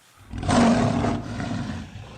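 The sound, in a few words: lion roaring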